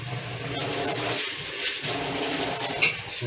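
Water runs from a kitchen tap without a hose attached, a steady rushing stream with a brief splash near the end and no talking.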